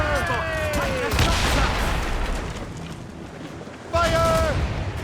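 Ship mortars firing in a sea battle in Assassin's Creed Rogue, heavy booming blasts and rumbling volleys over wind and water, with voices shouting commands at the start and again near the end.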